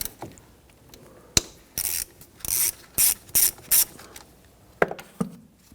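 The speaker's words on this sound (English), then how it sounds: "Use your 10mm socket." A ratchet with a 10mm socket loosens the battery terminal on a 2011-2015 Kia Sorento: a few sharp knocks, then several short, loud bursts of rapid clicking close by, without speech.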